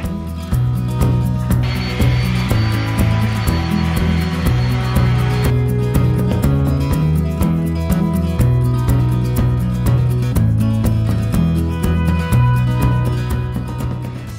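A wooden bedside table is hand-sanded with continuous close scraping and rubbing, rasping rhythmically over a steady low hum, with a brighter gritty stretch early on.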